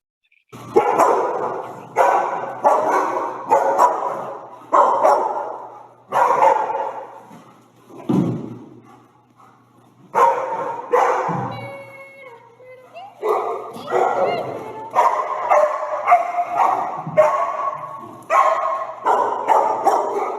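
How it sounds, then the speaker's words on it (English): Two overstimulated dogs barking and scuffling in a verbal argument, with bursts of close, loud barks and yips in rapid clusters separated by brief pauses. "we're going to see a verbal argument between two dogs."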